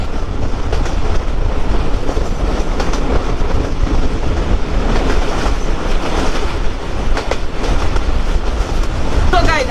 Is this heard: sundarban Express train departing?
yes